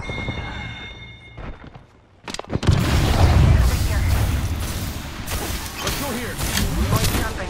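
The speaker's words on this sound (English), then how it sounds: "Throwing Archstar." An Arc Star grenade goes off in a video game: a sudden sharp burst followed by a loud, dense crackling rumble that lasts several seconds, with a voice speaking over it.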